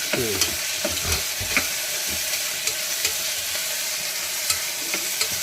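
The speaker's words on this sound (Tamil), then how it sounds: "வச்சுட்டு கொஞ்ச நேரம் கிண்டி விடணும்." Vegetables for veg rice frying in a pan and being stirred, with a steady broad sizzle and scattered scraping clicks of a spatula against the metal, close and moderately loud with no talking.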